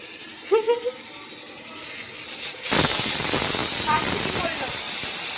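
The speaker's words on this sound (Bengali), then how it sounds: "সিটি পড়বে এখন মনে হচ্ছে।" A pressure cooker suddenly releases its steam, a loud, close, sustained hiss that bursts in partway through and keeps roaring, after a quieter stretch with a brief voice.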